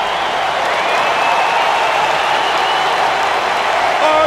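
A capacity crowd applauding at an MMA event, loud and sustained with cheering, a dense roar of clapping that holds steady throughout.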